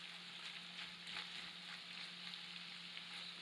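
Onions frying in rendered bear meat fat, a faint, even sizzle with soft crackles that runs on quietly and steadily, no one talking.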